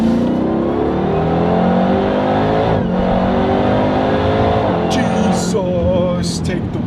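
A Dodge Durango Hellcat built to around 1000 horsepower revs hard and accelerates, its loud engine roar rising steadily under excited in-car talk, with brief sharp noises near the end.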